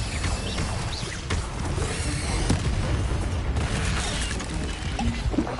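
Bombarda spell blasts in Hogwarts Legacy rumble as dense booming explosions with crashing debris, loud and continuous over a low heavy roar, with no voices.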